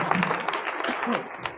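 Applause rises from the crowd at a village social service association's 75th anniversary celebration, a busy wash of clapping with some talk blended in, moderately loud and fairly close.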